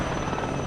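A brief, steady rotor thrum from a helicopter in the WARNO strategy game, dense and continuous throughout the short clip.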